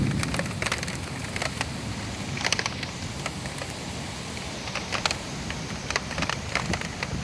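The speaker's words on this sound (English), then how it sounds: "Oh man, it's raining hard." Heavy rain pours during a thunderstorm in Buffalo, NY, a dense continuous hiss scattered with sharp patters and splats, loud and near, with no voices.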